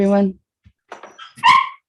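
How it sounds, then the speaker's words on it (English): Dogs bark loudly at the start, a short harmonic burst close to the microphone, followed by speech and a brief sharp sound near the end. "I do apologize for the dogs."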